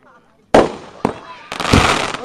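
Family fireworks go off outdoors in three sharp bursts, each followed by crackling, loud and fairly close, with a voice reacting.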